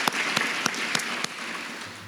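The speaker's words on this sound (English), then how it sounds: "I think that's worth some applause." Audience applause at a university funding announcement with State Farm Insurance, a steady wash of clapping with a few sharp individual claps standing out, gradually thinning toward the end.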